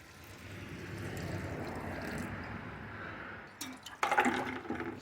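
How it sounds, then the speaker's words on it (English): Water splashes onto about an inch of soil in a planter during a spring herb-garden planting, a steady wet pour that ends in a few louder splashy bursts near the close. "Why not? Splash of water."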